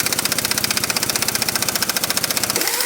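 An impact gun rattles in rapid, even bursts on a stripped bolt during removal of a 1.8-liter engine from a Honda Civic, loud and close, then cuts off abruptly near the end.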